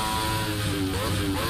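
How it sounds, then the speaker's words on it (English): A motorbike engine revs on a race circuit, a steady, loud mechanical drone with rising and falling harmonic pitch sweeps, while a voice talks over it throughout. "that lovely little motorbike rev."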